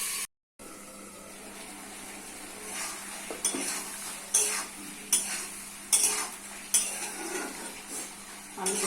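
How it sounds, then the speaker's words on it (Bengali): Potatoes are stirred and sautéed in a pan over a soft sizzle, with regular scraping strokes of a spatula about once a second, each a short loud swish close by. "আলুটি ভালো করে কষে দিতে হবে"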